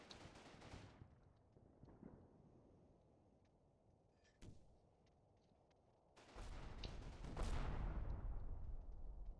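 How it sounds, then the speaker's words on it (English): Gunfire and artillery from the war game Combat Mission: heavy bursts of fire at the start, one sharp isolated report midway, then a loud, sustained barrage of overlapping shots and blasts to the end. "Artillery falling. They're getting shot at."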